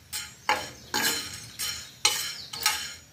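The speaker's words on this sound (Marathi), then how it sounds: "असं टाकून दिलेला आणि मस्त असं भाजलं जातं तव्यावर" Kurdai roasted dry on a tava griddle with no oil: about six quick, evenly spaced scraping strokes of a spatula against the metal, close and fairly quiet, with no voices.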